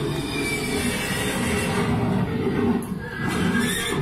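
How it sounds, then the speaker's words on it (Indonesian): Horse neighing sound effect inside a haunted house ride at an amusement park, a whinny over a dense rumbling, rattling backdrop of ride machinery. "Ini kayak ada kuda gitu ya."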